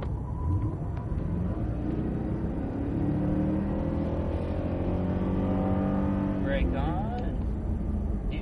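A Cadillac CTS-V on the COTA race track rumbles with a steady engine drone that eases off as the throttle lifts before braking, while people talk inside the car over it.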